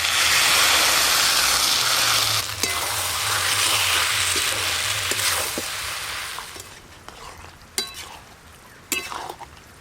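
Water goes into a hot pan of cornflour for chilli chicken on a clay stove, a loud broadband hiss that gradually fades, followed by a few sharp utensil clinks.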